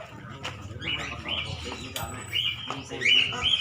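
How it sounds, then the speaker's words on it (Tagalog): Cockatiels chirp in short, bright bursts while being moved to a mini aviary, several calls close by amid soft handling noise and faint background voices. "Lilipat na nga ang mga ibon."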